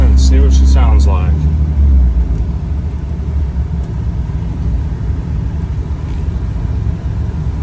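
A 2005 Dodge Ram third-gen 5.9 Cummins diesel flatbed dually gives a steady, deep engine rumble on the move, after a brief voice at the start.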